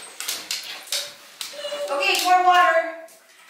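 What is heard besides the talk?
dog whimpering while being washed in the shower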